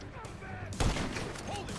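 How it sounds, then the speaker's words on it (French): A sniper rifle fires once in GTA 5 with a sharp, loud crack. Continuous game background noise sits underneath the shot. "Je vais le neutraliser au sniper."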